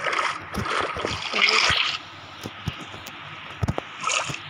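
Water splashing in a Minecraft fishing scene, a burst of broadband splashes and trickling for about two seconds, then quieter with a few short sharp clicks and a brief final splash.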